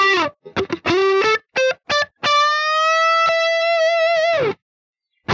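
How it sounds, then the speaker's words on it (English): Mono electric guitar through a long shimmer reverb from the United Plugins Biverb dual reverb plugin, short distorted picked phrases building into a sustained bright chord that rings and then cuts off. "a very long reverb shimmer applied only to the center, and this part reverb 2 applied to the side image"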